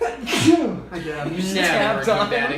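A single sharp human sneeze bursts out near the start, followed by people talking for the rest of the moment.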